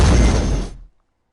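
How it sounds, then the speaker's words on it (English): A laser cannon in a video game fires at a rock, giving a loud, dense blast of broadband noise that holds for under a second, then cuts off sharply into silence. "I wonder if the laser cannon will affect it."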